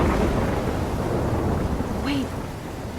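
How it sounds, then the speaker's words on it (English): Thunderstorm with steady heavy rain in the video game Life Is Strange, a dense continuous roar of rainfall and rumbling thunder throughout, loud and close, with a brief tonal blip near the end. "I'm trapped in a storm?"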